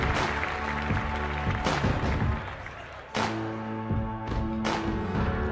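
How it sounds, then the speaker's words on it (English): Applause from guests at a quinceañera in a Houston banquet hall, dense clapping with a few sharp accents, briefly dipping before picking up again while music plays underneath. "Round of applause for them."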